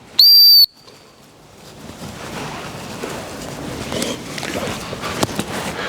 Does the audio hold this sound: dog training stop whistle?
yes